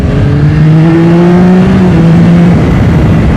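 A Yamaha R9 motorcycle engine accelerating hard on a back road, a loud, close, continuous roar with rising tones that climb through the revs, unbroken by any talk.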